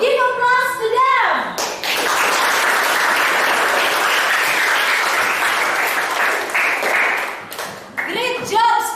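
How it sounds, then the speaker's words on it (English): Students in a classroom burst into applause, a dense, loud wash of clapping lasting several seconds, framed by a teacher's voice speaking briefly before and after. "give applause to them"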